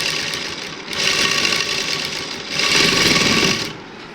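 An electric sewing machine stitches a housecoat panel onto fabric in two steady buzzing bursts with a short pause between them, loud and close, with no voices.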